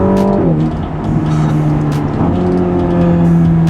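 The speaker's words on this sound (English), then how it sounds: "you can hear the exhaust and the engine a little more present in the cabin than previous models" A Ferrari Roma's engine and exhaust rev hard as it accelerates, heard from the cabin, a loud, rising growl with shifting pitch that stays close and continuous throughout.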